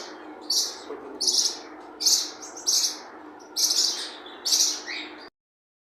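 Firetail finches at a pet bird market give six short bursts of high chirping at a steady pace, close and fairly loud over a constant background hum of the market.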